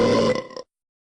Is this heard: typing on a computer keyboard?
no